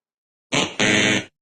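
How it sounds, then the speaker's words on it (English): A loud electronic buzzer sounds twice in quick succession, a short burst then a longer one, harsh and close with no talking. "what was that? A buzzer."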